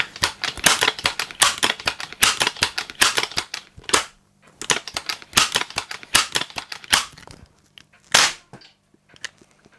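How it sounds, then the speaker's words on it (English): Crosman 766 multi-pump pneumatic air rifle with a fault, pumped and fired: bursts of sharp mechanical clacks and snaps in quick clusters, close and loud, separated by short pauses, with no talking. "sometimes it will allow you to pump up and it will fire."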